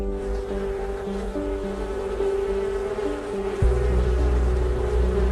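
Bees buzz in a continuous, droning hum, close and fairly loud, with the pitch wavering slightly as they move about.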